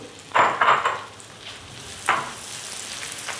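Half a cup of onion sautéing in melted fat for farofa campeira: two bursts of close sizzling as the pan is stirred, fading to a soft frying hiss between them, no talk.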